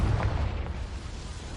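A Confringo blasting spell explodes in the video game Hogwarts Legacy, a low, rumbling boom that peaks at the start and then fades into a sustained dull roar.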